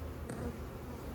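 Honey bees in an open hive during an early May inspection make a dense, steady buzzing hum at close range, continuous and unbroken for a short moment.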